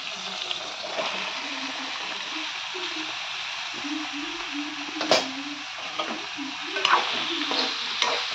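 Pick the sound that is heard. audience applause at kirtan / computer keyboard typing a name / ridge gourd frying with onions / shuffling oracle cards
ridge gourd frying with onions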